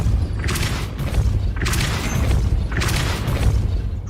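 Depulso force-push spell in the Hogwarts Legacy video game, three or four heavy booming bursts at an even pace, each a blunt whooshing thump with a short tail, loud and close with no talk.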